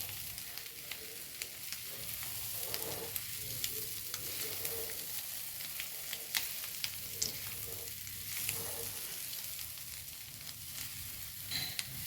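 Egg stir-fry sizzling in a pan as it is stirred: a steady bright frying hiss throughout, with soft scraping stirs and small pops, close and continuous.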